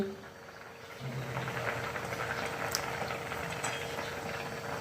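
Spinach bhaji simmers in a pot on the stove, a low steady bubbling and faint hiss heard at a distance with no voices.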